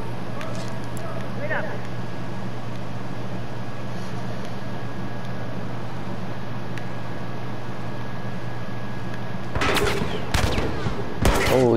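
Hunting rifle sniper shots in The Last of Us Remastered, heard as a few sharp cracks clustered near the end over a steady hum of game ambience, with muffled voices in the background.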